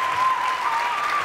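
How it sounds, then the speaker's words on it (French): Studio audience applause for actor Jean-François Balmer on a French television talk show; dense, even clapping from a crowd, loud and steady through the whole short stretch, with a faint tonal hum beneath. "Applaudissements pour Jean-François Balmer qui monte en marche."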